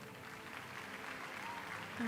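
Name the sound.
audience applause at indoor cycling championship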